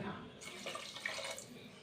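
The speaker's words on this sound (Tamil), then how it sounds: "நம்ம இந்த டம்ளருக்கு ஒரு அரை டம்ளர் சேர்க்குற தண்ணி." Water poured into a pot of Tamil-style garlic gravy, a soft, faint splashing trickle lasting under two seconds in a quiet kitchen.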